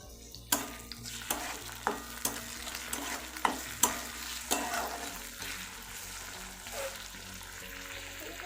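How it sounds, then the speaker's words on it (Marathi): Onion and tomato frying in oil for egg bhurji, with sharp clinks of a spatula stirring the pan over a steady sizzle, loud and close, no talking. "त्यानंतर एखादा मिनटं टोमॅटो त्या तेलामध्ये फ्राय करून घ्यायचा।"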